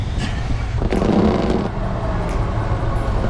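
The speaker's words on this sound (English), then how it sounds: "little bit of wheel spin" A modded Subaru Forester spinning its wheels on a rough off-road track, its engine revving in surges with a gritty, scraping rumble, heard close for a few seconds.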